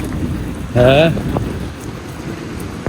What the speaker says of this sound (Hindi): बारिश तो बहुत तेज़ हो रही है